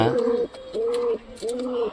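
Three drawn-out pigeon coos, each a low throaty hum separated by brief pauses, heard up close.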